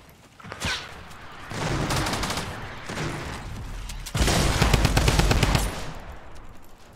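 Bursts of automatic gunfire in the Fortnite video game during a $20,000 tournament fight, sustained rapid rattling that swells loud around the middle and end, with no talk over it.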